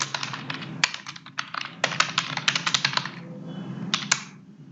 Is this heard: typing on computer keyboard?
yes